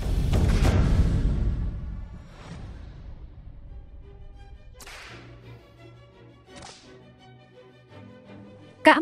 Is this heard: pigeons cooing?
no